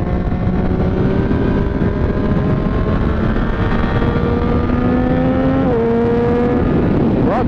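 A car engine held at high revs after a downshift while driving drones loudly and steadily from inside the cabin, its pitch dipping then climbing again near the end, with no voices.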